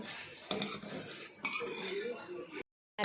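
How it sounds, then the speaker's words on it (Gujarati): Vanilla ice cream mixture being stirred in a pan, a utensil scraping and clinking against the metal in a steady rhythm, close and fairly loud, before stopping abruptly near the end. "આ રીતે આપણે હલાવતું રહેવાનું છે, મિક્સ કરતું રહેવાનું છે થોડી વાર માટે"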